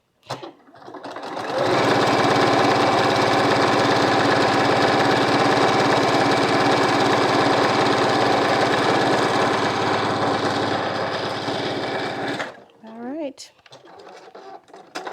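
A sewing machine runs steadily for about eleven seconds, stitching back along a quilt block seam, then stops; brief talk follows after it falls quiet.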